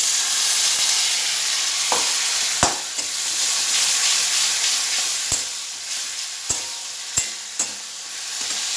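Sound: frying prawns with ginger tomato paste, sizzling

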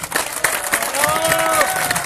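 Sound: applause at a kindergarten classroom inauguration

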